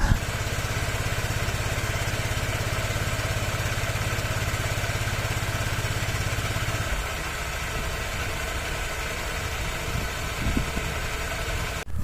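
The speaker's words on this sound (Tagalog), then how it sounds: "patakbuhin po natin yung ating scooter na nakasenta stand at nakaminor lamang" Several small motor scooter engines idling steadily together on center stands, a continuous low putter that drops slightly in intensity partway through, with faint clunks near the end.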